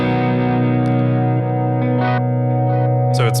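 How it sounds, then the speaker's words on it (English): A synth effects unit on its Mosaic setting A micro-loops a held, buzzy harmonic synth tone, slicing and replaying it with bursts of glitchy, pitch-shifted fragments. "it's micro looping, meaning it's taking my sound and slicing it and playing it back at a random interval"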